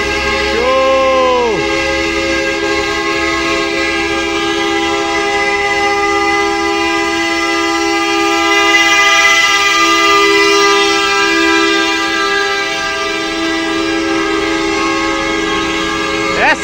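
Pilgrim buses gathered in Juazeiro do Norte for the All Souls' Day romaria sound long, loud, sustained musical horns, with a brief wavering siren-like tone near the start, all blaring continuously and close by.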